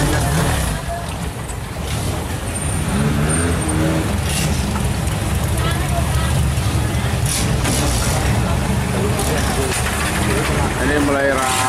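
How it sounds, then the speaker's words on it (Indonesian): Large boat engine at a crowded floating market in Thailand, a steady low rumble running throughout, loud and close, with chatter and market bustle layered over it. "Mesin botnya besar ini mesin."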